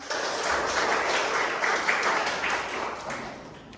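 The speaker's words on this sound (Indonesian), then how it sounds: "Oke, tepuk tangan." Classroom applause in an Indonesian school lesson, a few seconds of brisk clapping from many students nearby, swelling quickly, holding steady, then tapering off at the end.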